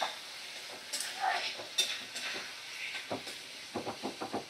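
Spice masala fries in oil over a medium flame while a spoon stirs it, with soft sizzling and hiss under scraping strokes that grow into a run of rhythmic stirring pulses near the end, quiet and close.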